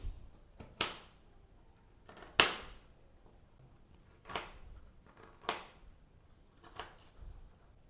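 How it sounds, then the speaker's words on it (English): Peeled onions are chopped very finely with a knife in a home kitchen, about eight sharp, close, separate cuts at uneven intervals over a quiet background. "ensure that onions are chopped very finely"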